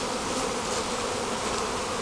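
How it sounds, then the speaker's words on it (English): Dense, steady buzzing of many honey bees swarming close around an open hive as it is being worked, a continuous loud drone with no voices. "We got to get all these bees off of here."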